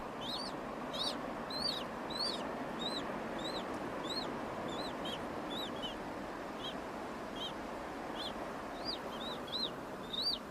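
Penguin chicks beg for food, giving repeated high, thin chirping peeps in a steady series over a soft, constant background of wind or colony noise.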